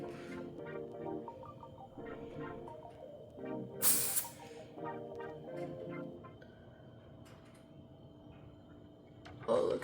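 An aerosol activator is sprayed in a brief loud hiss from a can held about 10 to 12 inches away, set against a steady background of clattering, ticking and low rumbling room noise.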